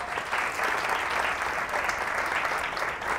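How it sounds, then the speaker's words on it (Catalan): A studio audience at a quiz show applauds the contestants, a steady and fairly loud burst of many hands clapping without any voices. "Un aplaudiment per ells, si us plau."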